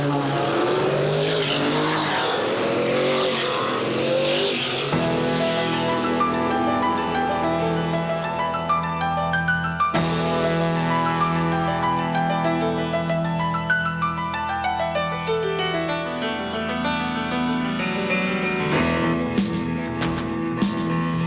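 Trans Am race cars at the 1991 Dallas SCCA street race in Addison roar past in a continuous loud stream, engines howling and shifting with sweeping pitch changes as several cars go by close, no talk over them.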